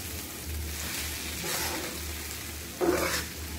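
Spicy jowar-flour noodles being stirred in a pan over a low, steady sizzle and hum, with a brief louder scrape near the end.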